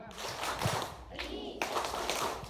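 Children clapping the Tepuk Islam rhythm during village storytelling in Kuncen, Mejayan, short rhythmic bursts of clapping mixed with voices.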